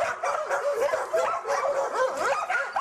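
Young hunting dogs bark and yip at a small, quick female sable in the taiga, a dense run of overlapping excited barks and whines, close and loud, with no talk.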